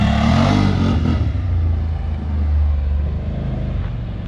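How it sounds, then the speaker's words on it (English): A vehicle fitted with an RJWC Krossflow exhaust passes at about 30 km/h on a closed course, a loud, close, deep engine rumble that holds steady and then eases slightly as it moves by. "now we're going to do a drive-by around 30K an hour on a closed course"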